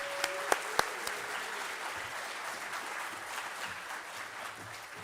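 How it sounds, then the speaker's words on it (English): An audience applauds Chancellor Rodriguez at a men of color leadership conference, a steady wash of clapping heard from a distance, with a few sharp nearby claps at the start. "how about another round of applause for Chancellor Rodriguez?"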